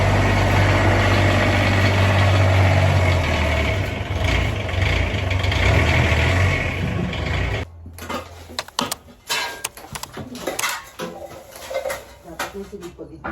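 A quad bike engine idles on a farm with a steady, low, rumbling drone for several seconds, then cuts off, leaving scattered clattering and knocking sounds.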